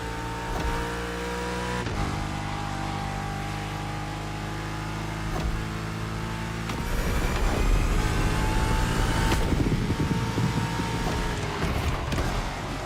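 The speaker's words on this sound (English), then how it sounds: "Now you can let the supercharged V8 do the talking." The supercharged V8 of a Shelby GT500 in a racing game revs and accelerates hard, a steady engine drone that swells louder and rougher in the second half, with no voices over it.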